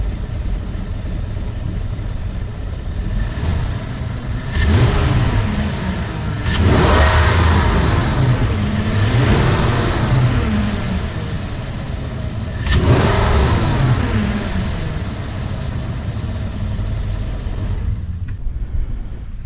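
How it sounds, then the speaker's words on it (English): A 2016 GMC Sierra 1500 pickup engine, hood open and stock intake still fitted, revs up loudly in several swelling bursts over a steady idle, close by, with no talking. "I will start off with a before open hood rev and an in truck before video 0 to about 60."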